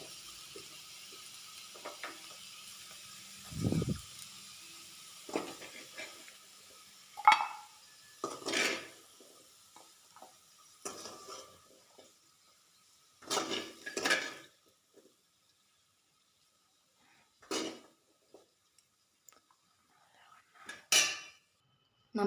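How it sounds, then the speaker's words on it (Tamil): Jackfruit seed fry being scooped from the pan into another vessel, with scattered metal ladle scrapes and clinks against cookware at irregular intervals and quiet pauses between. "இப்போ நம்ம இதை வேறு ஒரு பாத்திரத்தில் ட்ரான்ஸ்ஃபர் பண்ணிக்கலாம்"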